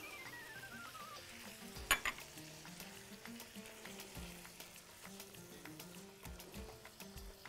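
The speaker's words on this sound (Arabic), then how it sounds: "هنحط دلوقتي بقى البصل وهنسيبه كده يدبل شويه" Onions and minced garlic fry in a pan for a bean and meat tagine, a steady close sizzle broken by a sharp clink of utensil against the pan and faint stirring scrapes, with no talking.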